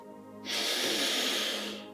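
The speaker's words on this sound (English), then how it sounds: "Breathing in again." Slow, steady inhalation through the nostrils during a calming breathwork exercise, a soft airy hiss rising and holding for about a second and a half, close and alone.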